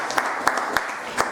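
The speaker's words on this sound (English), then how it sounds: "I want you to help me clap for him." Sparse, scattered clapping from a workshop audience at a leadership and entrepreneurship conference, a few distinct claps over a low murmur of voices.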